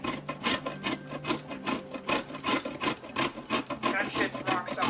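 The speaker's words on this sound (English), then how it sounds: "So I'm just grating butter." Rock-solid cold butter grated by hand for pie crust, a steady rapid rasping of quick back-and-forth scraping strokes, close and continuous.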